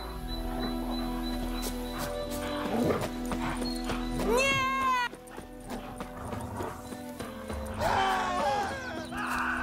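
Horse hooves clip-clop in The Witcher 3 video game, loud and near, with whinnies and neighs among the steps and someone talking over them.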